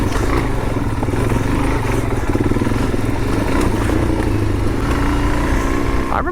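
Suzuki DRZ400 dual sport motorcycle ridden on a trail, its engine a steady, loud, close drone mixed with wind and rattling clatter throughout, with no talking.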